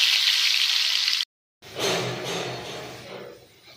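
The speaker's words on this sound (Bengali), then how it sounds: "তেলের ওপরে ছোট ছোট কেটে রাখা আলুগুলো দিয়ে দিলাম।" Small cut potato pieces dropped into hot oil, a close crackling sizzle that breaks off briefly, then resumes as a loud hiss and bubbling that slowly fades.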